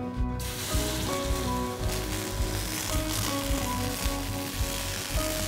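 Water drops hit a preheating frying pan and sizzle steadily for the whole stretch. Bright crackles and pops sit over a continuous hiss, close and fairly loud. The pan is being heated before frying perilla-leaf and chive pancakes.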